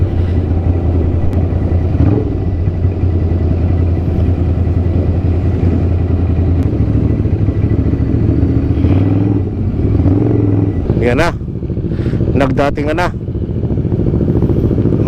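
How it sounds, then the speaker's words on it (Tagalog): Many motorcycles on a breakfast ride at Tagaytay Highlands make a constant engine drone with a few sharp revs near the end, loud and close, while someone talks over the noise. "Napakadaming motor mga katods."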